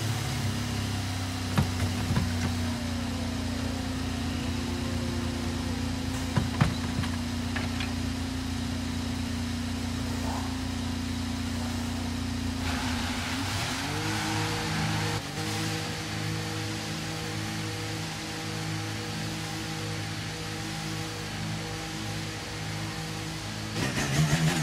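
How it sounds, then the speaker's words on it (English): Race car engines idle with a low, steady rumble at a practice session, then shift pitch midway as the revs climb and hold at a higher drone, heard up close with no talking. "engines fired up, we're set"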